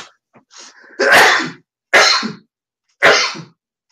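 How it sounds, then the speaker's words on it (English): Three loud, sharp sneezes in close succession, each a sudden explosive burst, preceded by a few soft breathy sounds. "Excuse me, I got to sneeze."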